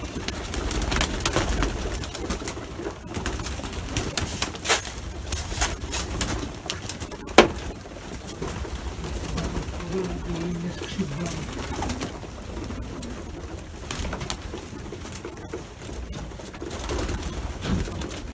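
Pigeons coo repeatedly at close range while being fed a grain mix of peas, wheat, barley, rapeseed and hulled oats, with steady background rustle and someone talking throughout.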